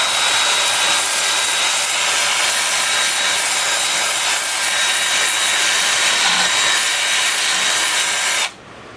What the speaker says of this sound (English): I'll be sanding those individually like this